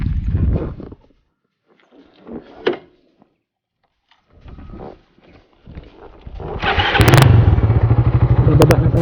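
A motorcycle climbing a steep uphill mountain trail on Mt. Zion, Bugallon, Pangasinan: loud engine bursts with gaps between them, then a sustained close revving roar near the end.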